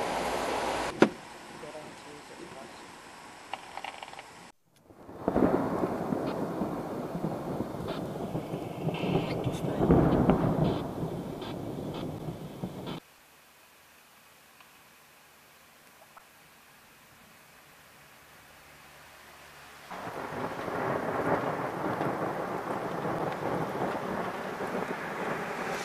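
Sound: thunder in a storm with rain

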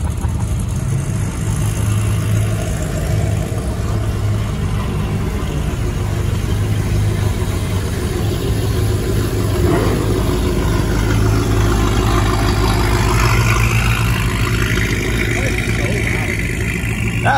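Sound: car engine idling

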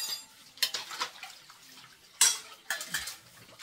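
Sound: washing dishes, cutlery and pots clattering

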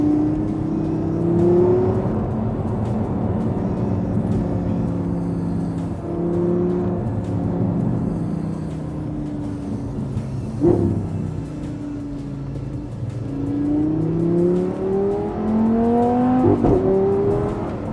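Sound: V10 car engine accelerating

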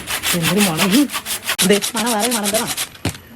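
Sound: cutting firewood into small pieces

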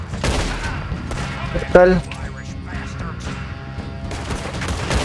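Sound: gunshots while hunting in video game Red Dead Redemption 2

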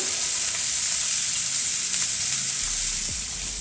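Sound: onions cooking in pan

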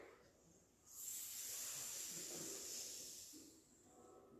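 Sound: audience imitating a snake hiss

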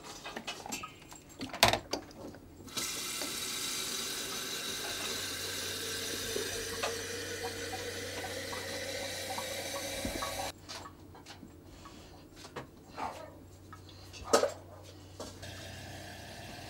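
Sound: water running from a tap into a sink

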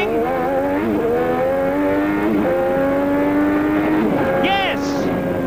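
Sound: Formula One racing car on onboard lap at Adelaide

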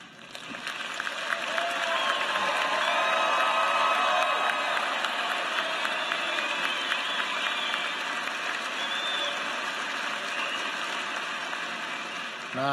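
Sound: applause for graduation candidates in arena

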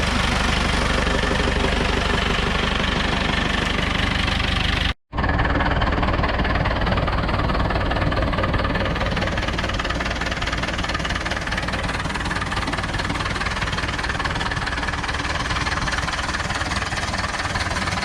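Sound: Ursus C360 tractor engine idling after turbocharger install

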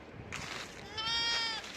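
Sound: sheep bleating

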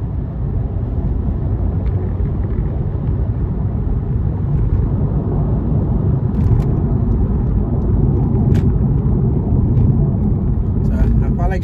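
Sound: car rumbling and shaking on worn tires

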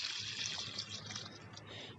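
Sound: water pouring while watering a compost plant bed

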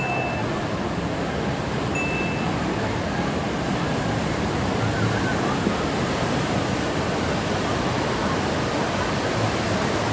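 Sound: wave pool wave crashing over riders at a water park

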